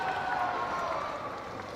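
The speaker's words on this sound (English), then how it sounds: "The crowd goes wild." Crowd cheering and applauding at the World Cup of Bowls finals: a steady, moderately distant roar of voices and clapping lasting the whole moment.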